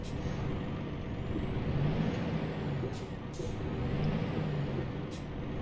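A heavy truck in a European truck-driving video game cruises with a steady engine drone that rises and falls, while several short hissing bursts of air brake cut in over it.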